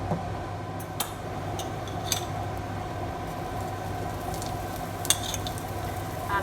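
Aloo paratha cooking in oil on a hot tawa over medium-low heat, giving a steady, close sizzle with occasional small ticks and pops.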